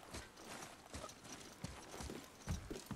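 Horse hooves clip-clopping in the God of War video game, a steady run of soft hoofbeats over low rumbling game ambience with no speech.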